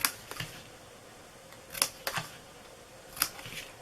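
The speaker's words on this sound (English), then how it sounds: "you are going to just cut into each one of these" Scissors or a craft blade cutting into the bottom of a paper Christmas treat box, giving a few brief crisp snips and clicks spaced apart, close and fairly quiet with no talking.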